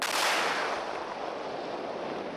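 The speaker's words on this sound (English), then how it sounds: "a controlled explosion is the last resort" Underwater controlled detonation of WWII munitions at sea: a single loud, broad rumbling blast that starts at full strength and slowly decays into a sustained roar over a couple of seconds, with no voices.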